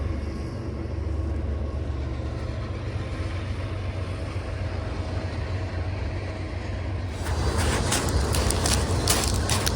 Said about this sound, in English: This one specific hike has an overpass, so you'll be able to see the train once in a while.